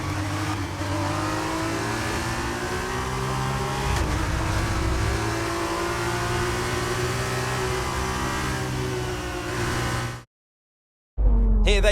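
Formula 2 race car engine from the F1 23 racing game, a loud, sustained high-pitched whine with shifting pitch as the car runs at speed, then a sudden cutoff to silence before a brief burst returns.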